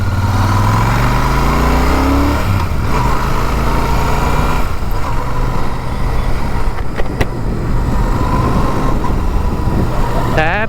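A Royal Enfield Super Meteor 650 engine runs after its first service, a loud, close, steady idle with a low even thrum and no ticking tappet rhythm, over a short rising rev at the start.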